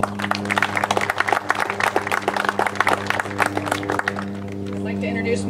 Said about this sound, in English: Please join me in a round of applause for these individuals.